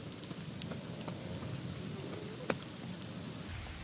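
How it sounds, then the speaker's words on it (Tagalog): Rain falls steadily outdoors on farmland during planting, a soft, even hiss of drops that stays faint throughout, broken by a single sharp tap near the middle. "Umuulan, umuulan."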